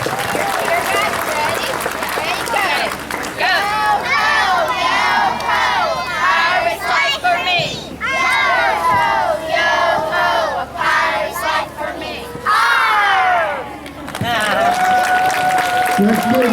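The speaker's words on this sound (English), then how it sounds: "Let's give Miss Vaughn's class another big round of applause." Crowd cheering and shouting at a school book float parade honoring a class that won an award, with children's voices prominent in a loud, continuous wave of whoops and yells, some clapping underneath.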